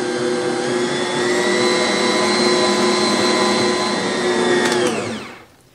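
A stand mixer kneads a large batch of savory pumpkin bread dough, its motor whirring at a steady high pitch, loud and close, before it winds down and stops near the end.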